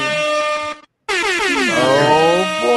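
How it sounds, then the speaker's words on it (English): Loud air horn blast, a long held blare that cuts off briefly and then sounds again, bending in pitch, alone and close. "You talking about the air horn?"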